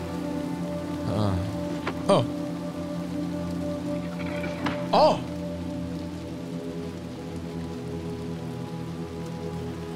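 Steady rain hiss in the video game Little Nightmares 2 fills the scene, with a few brief louder bumps and a short spoken exclamation near the start.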